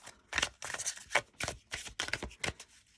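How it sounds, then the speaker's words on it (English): A deck of Dragon Path oracle cards is shuffled by hand up close, roughly seven quick riffling bursts in a loose rhythm with brief gaps, no voices. "so let's just have a quick shuffle."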